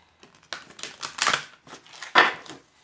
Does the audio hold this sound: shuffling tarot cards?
yes